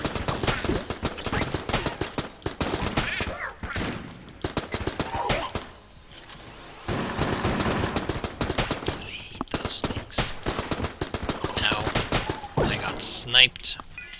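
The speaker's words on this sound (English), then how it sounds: "So now I get to use my Tommy gun again." Rapid Tommy gun fire in The Gungeon video game, in repeated loud automatic bursts separated by short pauses, with a person talking over the shooting.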